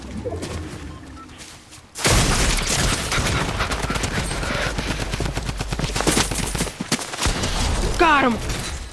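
Rapid bursts of gunfire fill a Fortnite firefight, a dense, loud barrage after a brief quiet opening that continues almost nonstop, with a player's voice talking over parts of it.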